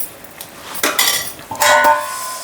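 A metal lid clanks onto a cooking pot of dal on the stove, two loud ringing metallic clinks close by with a short rattle between, no talking.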